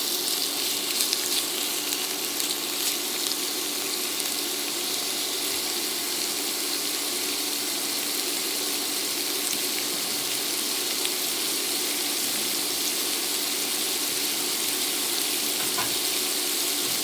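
Shrimp with garlic and salt frying in a pan for a keto Chinese shrimp and broccoli stir fry, giving a steady, close sizzle that runs unbroken throughout with no talking.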